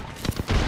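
Gunfire in the video game Apex Legends, two quick shots followed by a sustained burst, sharp and close with no talking.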